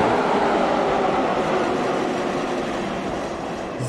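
A train accelerating in the Minecraft Immersive Railroading mod, heard as a steady, loud rumbling roar that holds throughout and eases off slightly toward the end, with no voices.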